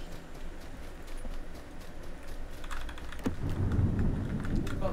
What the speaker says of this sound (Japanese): えどっちの雷の音だこれ。